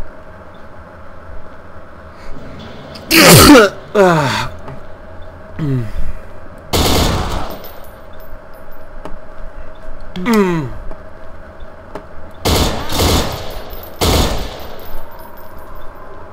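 Gunfire in Garry's Mod as NPCs are shot in a small-town map: several loud, sharp single shots and short bursts come at irregular intervals over a steady background hum, with no talk over them.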